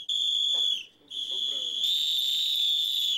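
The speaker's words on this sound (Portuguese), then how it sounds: "Um apito vai ajudar a alertar a comunidade em caso de alguma suspeita." A whistle blown as an alert by a neighbourhood watch group in Divinópolis: a loud, piercing, sustained tone that breaks off for a moment and then resumes, steady and shrill to the end.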